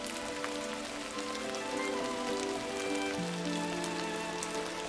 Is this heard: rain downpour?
yes